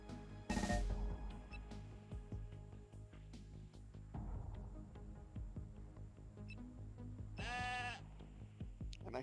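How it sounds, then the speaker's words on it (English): Goat bleating in the shooter game Renegade X: one loud bleat near the start and a second shorter, higher bleat later, over a busy background of game noise and gunfire. "An actual goat."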